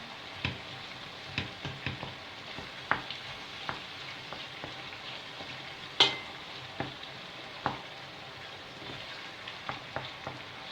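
Meat sizzles and crackles steadily in a hot pan while cooking for eggplant moussaka, with scattered sharp pops and occasional scraping stirs against the metal.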